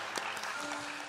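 Clapping from a church congregation at a Sunday morning service rolls on at a moderate level, a continuous patter with a faint tone humming underneath in the room.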